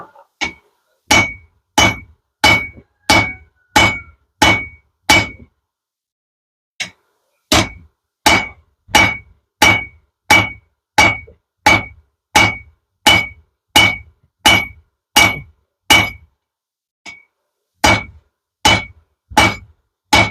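Hammer blows ring on hot iron over an anvil while a bick iron is forged, sharp metallic strikes in steady runs of about one per second, loud and close, with short pauses between sets.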